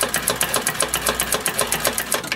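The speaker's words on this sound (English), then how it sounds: "while holding the reverse lever down, I'm going to run a seam backwards here." A Consew 206RB industrial sewing machine stitches a seam in reverse, its needle mechanism chattering in a fast, steady rhythm with a low motor hum underneath, close and continuous with no talking.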